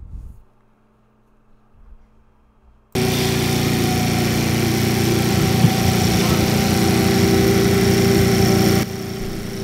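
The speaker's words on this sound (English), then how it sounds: "I'm cutting grass with the 1952 Set and Cut lawnmower" A small engine on a 1952 AirCaps Sit'n Cut riding lawnmower starts up after a few quiet seconds and runs steadily at a loud, constant drone, close by, while cutting grass.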